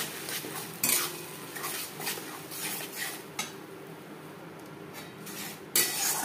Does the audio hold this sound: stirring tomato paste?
yes